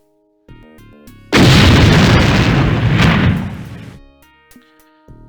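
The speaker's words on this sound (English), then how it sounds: "An explosion rips through the party." A loud, sudden explosion in the Superhero League of Hoboken video game, a roaring burst lasting a few seconds between short chiptune-like musical tones.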